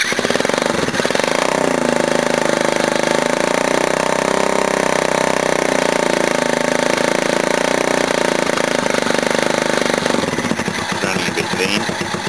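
A mini bike's small engine running lean after a cold start, a loud, rapid buzzing putter held steady for about ten seconds before it falters and drops off near the end.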